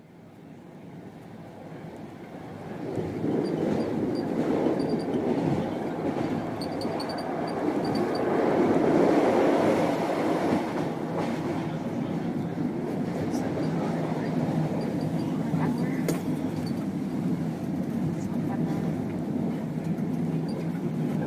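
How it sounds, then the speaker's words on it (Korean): A Czech train runs on rails with a continuous rumbling roar that swells after a quieter start, peaks midway and then holds steady, with faint rattles and clacks over the low drone. "이게 체코의 기차 소리예요."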